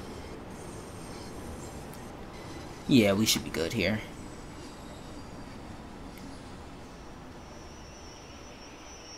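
Bakerloo Line London Underground train in Train Sim World 2 running with a steady rumbling hum, joined by a brief whining squeal of braking, while someone talks over it.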